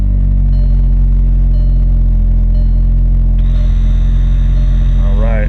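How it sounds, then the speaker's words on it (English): A car idles with a steady low rumble and hum while a Viair 380 air suspension compressor whirs on partway through, adding a higher mechanical drone that continues to the end. "Compressors will kick on, so I want to start the car."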